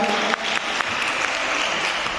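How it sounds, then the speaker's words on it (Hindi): Dense, steady audience applause fills the hall at an award ceremony of the 30th National Children's Science Congress as a young contestant is welcomed; the clapping stays loud and continuous throughout. "जोरदार ताली के साथ इनका स्वागत किया जाए।"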